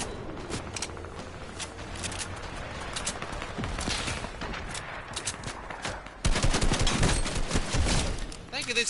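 Rapid bursts of Fortnite gunfire crackle in quick volleys, growing louder and denser toward the end, with a voice talking over the game audio.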